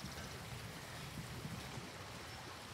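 Steady rushing waterfall in the Ghost of Tsushima game world, a continuous broadband wash of falling water with low churning underneath, even and unbroken throughout with no talk.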